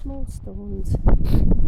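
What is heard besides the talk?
No everyday noise stands out behind the speech.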